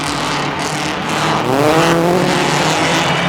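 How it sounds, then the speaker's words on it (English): A rally car runs a 2-kilometre circuit at the 2007 Rally de Portugal despite an engine problem. The engine drones loud and steady throughout and rises in pitch midway as it accelerates, with no voices. "Petter Solberg's car managing to master the 2-kilometre circuit despite that engine problem."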